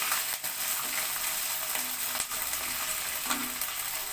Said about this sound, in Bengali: আদাটা একটু ভাজা ভাজা হবে।